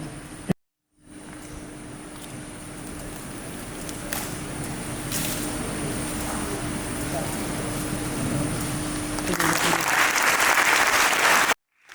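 Sustained audience applause at a diocesan catechism inauguration, steady dense clapping across the whole span with a brief dropout near the start and a louder swell toward the end before cutting off.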